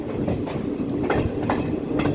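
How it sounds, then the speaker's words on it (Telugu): A goods train hauled by twin WAG-9 electric locomotives runs past on the opposite track near Vizianagaram junction, a steady close clatter of wagons and rolling wheels with rhythmic clickety-clack beats throughout. "సో ఆపోజిట్లో వ్యాగ్ 9 ఏదో ట్రైన్ అయితే వచ్చేస్తుంది."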